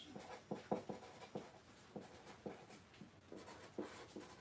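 Pen scratching on paper while a job list for a 1936 Chevy Coupe is written, with short, soft strokes arriving in irregular bursts, close and quiet, with no talking.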